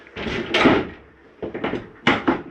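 A shower door in a 2021 MesaRidge 371MBH RV is worked and snapped shut, making several close plastic clacks and thumps in quick bursts with short rattles between them.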